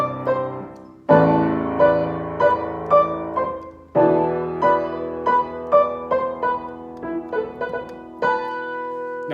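Piano plays the gigachad theme in C, starting after a brief pause with a bold low chord and then a steady run of struck chords and melody notes that ring and fade, loud and close with no voices.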